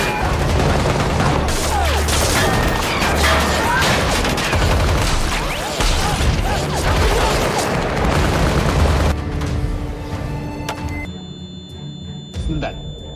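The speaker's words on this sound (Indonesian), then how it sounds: "Di tengah baku tembak itu," A film gunfight, with loud dense bursts of gunfire and booming impacts under speech, then thinning out to scattered shots and quieter sounds near the end.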